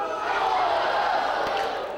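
School crowd at First Ave School in Newark shouts "Boom!" together in place of applause, a loud unison burst that sustains and fades over two seconds.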